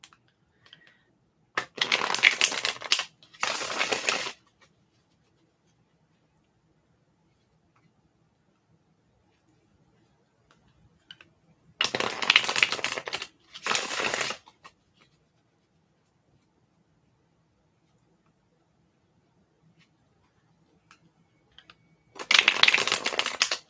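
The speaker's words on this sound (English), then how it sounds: "while I shuffle the cards." Tarot cards are shuffled in three short riffling bursts, separated by long stretches of near silence.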